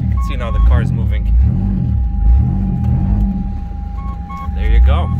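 Car engine rumbling and surging in low, repeated swells as it drives with the rear differential lock engaged, with a steady electronic tone and brief bursts of sound over it.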